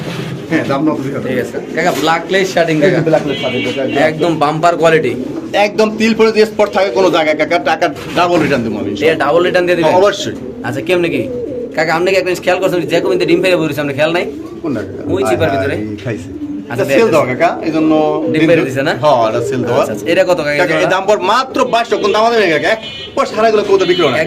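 Fancy pigeons, including Spanish breeds, coo repeatedly in low, throaty bursts, close and busy, with several birds calling over one another throughout.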